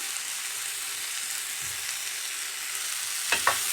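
Zucchini frying in a pan for a healthy diet dish, a steady close hiss of sizzling oil that goes on throughout, with a couple of soft scrapes and clacks from stirring near the end.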